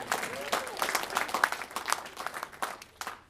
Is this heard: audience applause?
yes